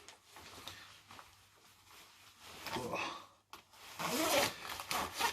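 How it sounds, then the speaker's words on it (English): A Columbia Bugaboo 1986 jacket being zipped up, with rustling fabric and short scraping zipper pulls building to a longer, louder zip near the end, close to the microphone. "Let me zip it up."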